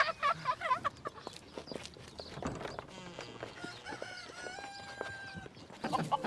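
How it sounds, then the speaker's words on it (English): Chickens cluck in short, scattered bursts on a farm in a children's TV drama, fairly faint over a quiet outdoor background. "We need to get that chicken to that corner near"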